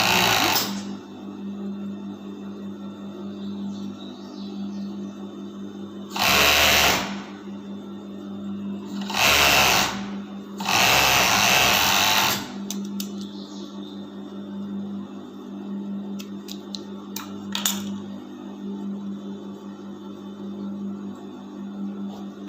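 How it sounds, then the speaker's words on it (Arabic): A sewing machine stitches fabric for a bodysuit in three loud mechanical bursts, the last one longest, each separated by quieter stretches over a steady low background hum. "غادي ندير الخياطه على الخياطه ونسيري الثوب"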